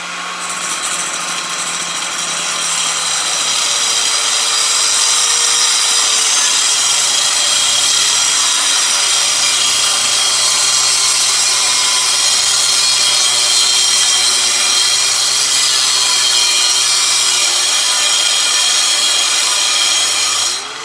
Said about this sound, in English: So hey, want to watch me cut a bolt?